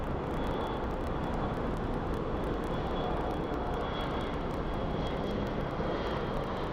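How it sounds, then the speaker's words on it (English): A Horizon Air Embraer 175 airliner at Phoenix Sky Harbor International Airport gives a loud, steady jet roar with a faint high whine laid over it, holding constant for the whole stretch with no talking. "So this is a little Horizon Air Embraer"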